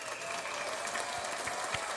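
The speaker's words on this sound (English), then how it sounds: "Let's do an applause." Audience applause celebrating a daughter's first job at a virtual vision board party, steady broadband clapping sustained throughout at moderate level, with a few sharper individual claps standing out near the end.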